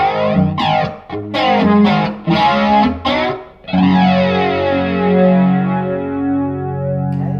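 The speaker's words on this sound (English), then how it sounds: "let's have a listen to the flanger with the overdrive in front of it" Electric guitar through an overdrive pedal feeding a flanger: distorted chords and notes with a sweeping, swooshing jet-like shimmer, first several short strummed stabs, then one long sustained chord ringing out and slowly decaying, loud and close.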